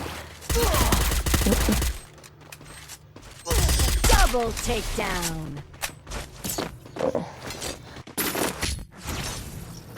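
Gunfire in the Free Fire Max mobile shooter comes in loud rapid bursts and scattered single shots, with mechanical clicks and thuds between them.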